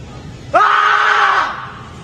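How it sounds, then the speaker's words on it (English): A man screams as loud as he can: one sudden, raw, sustained yell lasting about a second, bursting out of a quiet room and then trailing off. "all you got to do is scream. As loud as I can."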